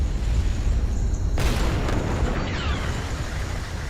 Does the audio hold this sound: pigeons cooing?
no